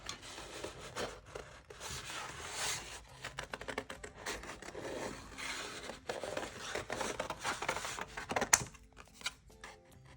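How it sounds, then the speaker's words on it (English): Scissors cut paper along traced pumpkin shapes for a craft garland, giving soft, quiet, irregular snips and rustles close by with no talk. "I'm going to carefully cut on the line that I just traced for the pumpkins"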